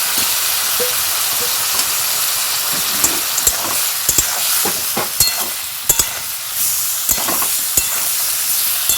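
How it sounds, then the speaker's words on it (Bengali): Bitter gourd frying in a pan gives a loud, continuous hissing sizzle, broken by frequent short knocks and scrapes of a spatula. "এই যে উচ্ছে ভাজা হচ্ছে"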